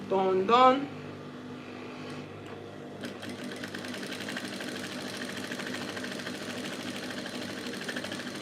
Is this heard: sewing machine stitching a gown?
yes